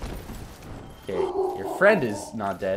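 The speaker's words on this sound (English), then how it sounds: "Oh, sorry about my dog right there." A pet dog yips and barks in short, close bursts while someone talks over it during a Dark Souls play session.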